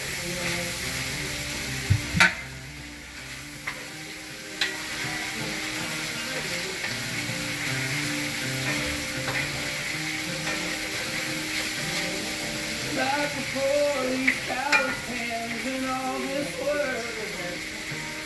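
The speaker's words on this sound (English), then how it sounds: "so I'll give that a stir" Jambalaya with Cajun spice and shrimp being stirred in a pot, a steady sizzle and bubbling with scraping clanks of the spoon against the pot and a couple of sharp knocks.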